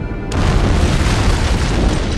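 Antimatter charge explosion aboard a ship in Halo: Combat Evolved: a loud, sudden boom followed by a sustained roaring rumble that fills the whole clip without fading.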